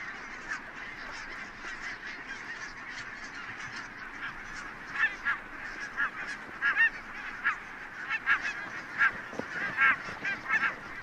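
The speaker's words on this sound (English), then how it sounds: "The barnacle geese are roosting on the mudflats of Loch Endal" Barnacle geese roost at dawn on the mudflats of Loch Indaal on Islay, a distant flock honking continuously and growing busier and louder toward the end.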